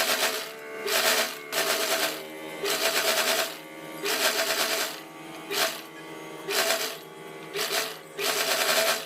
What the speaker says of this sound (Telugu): ఇప్పుడు డబుల్ స్టిచ్ వేసేద్దాం.